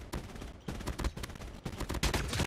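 Call of Duty: Mobile gunfire in rapid automatic bursts, loud and close, with short gaps between volleys and no talk over it.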